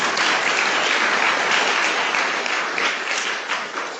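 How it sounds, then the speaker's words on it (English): Conference audience applauding at the end of a session, dense and continuous clapping from many hands that stays loud throughout and tapers slightly at the end. "so you clap hands"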